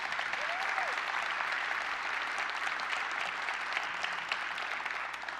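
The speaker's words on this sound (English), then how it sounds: "Let's give them a big round of applause." An audience at a Developer Day keynote applauds a team, steady dense clapping from many hands that carries evenly through the whole stretch, with a faint voice briefly audible early on.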